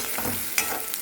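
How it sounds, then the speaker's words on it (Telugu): Onions and green chillies fry in oil with a continuous close hiss, broken by a couple of brief sharper crackles. "ఆనియన్స్ వేగుతున్నాయండి"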